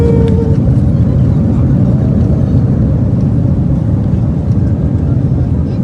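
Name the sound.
airplane just after landing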